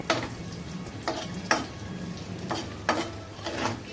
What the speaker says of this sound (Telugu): ఇప్పుడు ఇదంతా ఒకసారి బాగా కలుపుకోవాలి.